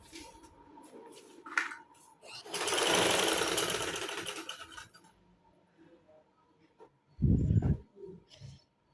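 A sewing machine runs at home in a Kashmiri household, a loud whirring burst in the middle of the clip, followed later by a short clattering knock, with faint background voices.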